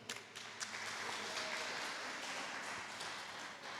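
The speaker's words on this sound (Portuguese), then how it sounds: "Dê um forte aplauso ao Senhor." A congregation claps together during a church worship service, a dense, sustained wash of applause that holds at steady volume for several seconds, moderately distant, with no clear voices.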